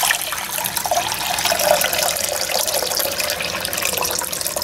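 Filtered water pours steadily into a slow cooker, a continuous splashing stream heard up close for several seconds with no talking.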